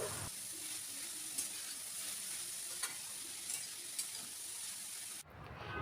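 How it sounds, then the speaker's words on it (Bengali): Chopped carrots stirred and frying in hot, smoking ghee for carrot halwa: a steady, loud sizzle with occasional scrapes of the stirring spoon, cutting off abruptly near the end. "এইবার আমি কুচিয়ে রাখা সবটা গাজর দিয়ে দিলাম। এবার একটুখানি নাড়াচাড়া করে নিচ্ছি।"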